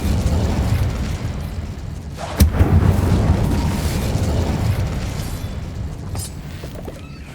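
A fiery blast from the Incendio spell in Hogwarts Legacy flares up with a sharp burst midway, over a steady, loud roar of fire and game ambience.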